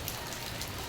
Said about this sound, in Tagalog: Panahon po ngayon ay talagang ulan.